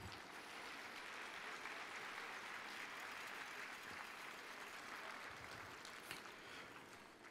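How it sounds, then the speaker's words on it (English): Steady, dense applause from an audience, a continuous wash of clapping with no pauses, heard at moderate distance. "could I have a big round of applause for Elise Sparks Jackson at this time?"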